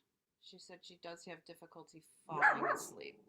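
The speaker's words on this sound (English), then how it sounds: "I'm sorry about my dog." A dog barks once, moderately loud, right after a stretch of indoor speech, with the bark cutting in near the end of the talk.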